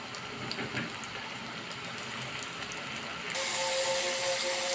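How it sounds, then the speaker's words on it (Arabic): Deep oil in a pan hisses steadily as fish goes in to fry, the broadband sizzle growing louder and brighter partway through, with a thin tonal whine riding above it and no talking. "حطينا زيت غزير في طاسه، وهننزل بسم الله الرحمن الرحيم نقلي السمك معاكم"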